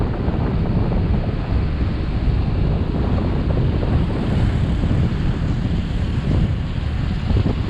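Steady broadband roar of rough sea surf and strong wind buffeting the microphone along the shore by a resort after a powerful typhoon, continuous and loud with no talking.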